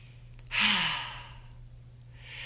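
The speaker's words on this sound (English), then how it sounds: "take a couple of deep breaths" A single deep breath drawn in and let out slowly, close and soft over a low steady hum, with a second airy breath starting near the end.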